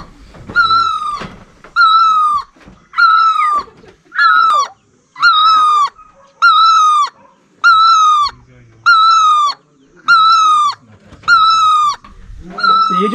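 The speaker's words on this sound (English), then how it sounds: "ये जो चिड़िया आप देख रहे हैं ना, ये जो आवाज़ कर रही है, इसको क्लॉक बर्ड बोलते हैं।" A hornbill-like clock bird in Nagaland calling, about eleven loud, evenly spaced honking notes roughly once per second, close and clear, with faint background voices between calls.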